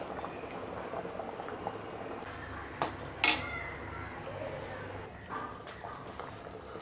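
Steady bubbling simmer of egg potato curry in a pot on the stove, with a couple of brief clinks of utensils against metal partway through.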